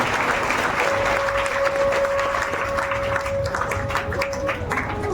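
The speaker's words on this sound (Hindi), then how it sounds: "ताली बजाइए एक बार महाराज जी" Audience clapping for a visiting Maharaj at a village religious gathering, a steady crowd applause lasting several seconds with a faint sustained tone running beneath, moderately loud and unbroken.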